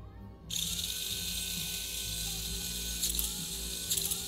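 A small electric motor in a custom mini 4WD car starts abruptly and runs steadily with a smooth, high whir and faint ratcheting texture, close by, with no voices.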